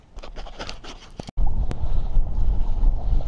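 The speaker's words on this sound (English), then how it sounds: "there's a canny wind on here still" Wind blows over open water during an early-season fly fishing outing, a loud steady buffeting rumble across the microphone after a brief cut, with faint gusting texture throughout.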